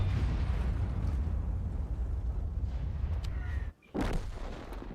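Tank cannon fire in World of Tanks booms loud and close, a heavy rumbling blast that sustains, drops abruptly to near silence for a moment, then erupts again with another sharp shot.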